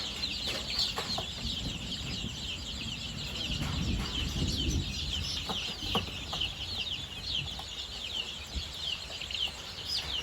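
A flock of nearly 200 chickens clucks and chirps continuously nearby, a busy overlapping chorus with no talking.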